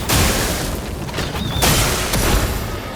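Zack Attack Explosion skill from the video game Clair Obscur: Expedition 33 fills the clip with a loud, continuous run of booming blasts and crackling bursts that swell again near the end.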